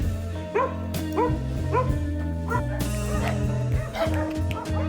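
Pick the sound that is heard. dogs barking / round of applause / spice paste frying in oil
dogs barking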